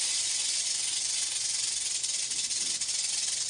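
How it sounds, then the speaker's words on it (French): A rattlesnake shakes its tail in a steady, dry, high buzzing rattle that holds nearly unbroken and loud throughout. "Ce bruit que vous venez d'entendre est produit par le crotal au moyen des étuis cornés formés par les mues successives de sa"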